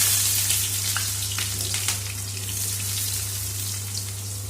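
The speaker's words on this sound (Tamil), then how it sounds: "கொஞ்சம் கடுகு போட்டுக்குங்க கடுகு பொறிஞ்சதும் வெங்காயத்தை போட்டு வதக்கணும்" Chopped onions frying in oil after mustard seeds for a Tamil prawn thokku, a steady loud sizzle with light crackles and a constant low hum underneath, no voices.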